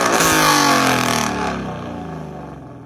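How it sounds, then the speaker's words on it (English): A loud, thunderous car engine revs hard in a burst, then the roar slowly falls away and fades out over a few seconds. "a loud, thunderous engine revving sound screamed from the dark threshold"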